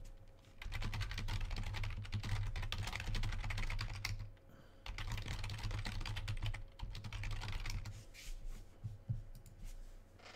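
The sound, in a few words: typing on a computer keyboard while messaging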